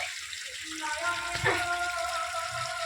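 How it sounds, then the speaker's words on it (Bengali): Water pours and splashes steadily onto the foundation of a new house during watering, a continuous gushing rush heard close, with people talking over it. "দেখো জল ঢুকে যাচ্ছে নিচে একদম"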